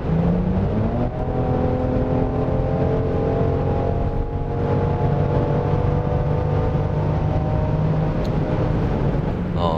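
A Genesis GV70 3.5T AWD SUV accelerates with its active sound design on, giving a loud, continuous engine drone that climbs steadily in pitch from the cabin, with no speech.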